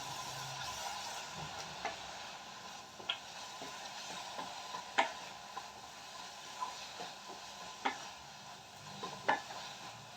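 A beetroot mixture for holige being dry-cooked in a pan, a soft sizzle under faint hiss with intermittent scraping ladle taps roughly every second or two, quiet and close.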